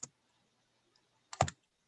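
A few quick keyboard taps on a computer during an online art journal group meeting, one faint click followed by a short close burst of keystrokes, with no talking.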